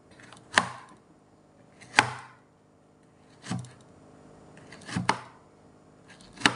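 A knife chopping onion and carrots on a board, with five distinct, evenly spaced chops that are fairly close and crisp against near silence.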